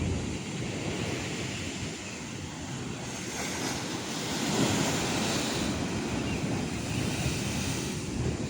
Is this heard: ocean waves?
yes